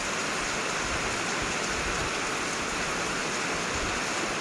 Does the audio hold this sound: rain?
yes